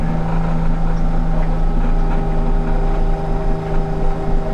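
A Stihl Kombi power tool engine runs steadily and loudly at close range throughout, a constant droning motor with a strong low hum and windy roar.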